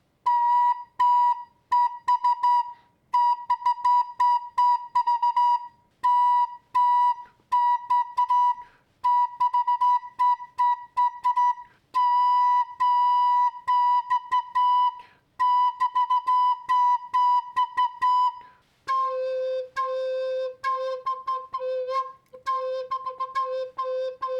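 A cheap recorder plays short tongued notes in quick runs, stepping upward and then jumping to a lower register, breathy, clear and close with no talking.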